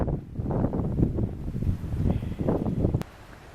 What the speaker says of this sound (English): Unfortunately, the wind is picking up.